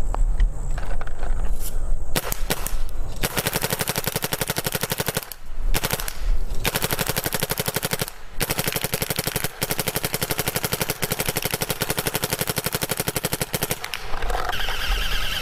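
A Planet Eclipse Ego 10 paintball gun fires a long, steady, rapid stream of close, loud shots, with a few brief pauses between bursts.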